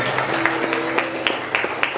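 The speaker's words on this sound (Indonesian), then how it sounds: "Tepuk tangan dong buat teman-teman saya." Children and audience applauding at an Indonesian storytelling event, a steady wash of clapping with occasional sharper claps standing out, fairly loud and continuous throughout.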